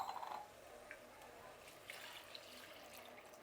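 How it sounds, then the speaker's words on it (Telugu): Water poured into a mixer jar in a home kitchen, a brief soft splash at the start that fades into a low, quiet trickle. "ఇప్పుడు ఇదే మిక్సీ జార్లో నీళ్ళు పోస్తున్నానండి నేను."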